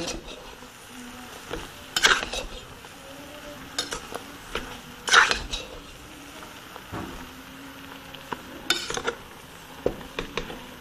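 A utensil scrapes and stirs through bopis with radish in a frying pan every few seconds, with a soft sizzle of frying running underneath.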